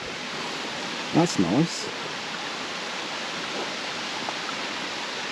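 A big mountain waterfall pours with a steady, broadband rushing roar that fills the whole scene, while someone speaks briefly over it.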